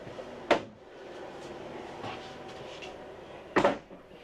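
The plastic bathroom door of a 2025 LTV Unity FX RV opening and closing: two light, hollow clacks about three seconds apart, with quiet room ambience between them.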